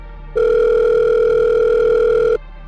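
A telephone call effect in a Korean audiobook: a single steady electronic phone tone holds for about two seconds, loud and clear, then stops abruptly.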